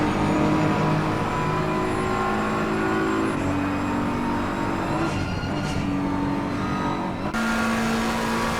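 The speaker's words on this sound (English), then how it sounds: "So that's one full lap with Evan Miller riding in the BMW" A BMW race car lapping Suzuka in a racing video game, its engine droning and shifting pitch through gear changes, holding at steady loudness with brief dips, no talk.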